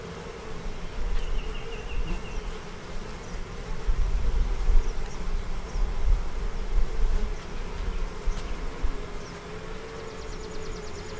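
Honey bees swarm around a productive beehive, a dense, continuous buzzing close by that swells and eases, with individual bees passing near the listener and no talk.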